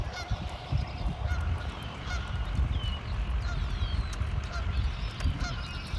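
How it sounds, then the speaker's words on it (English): Geese honk repeatedly at a moderate distance over a steady rushing background of water at a river dam. "Goose is telling something."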